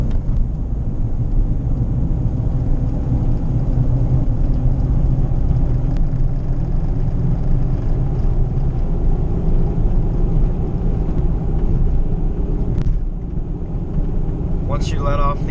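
A car with a failing CV axle accelerates, giving a steady low rumble and drone of engine and road noise that stays constant for about 15 seconds, with a brief sharper sound near the end.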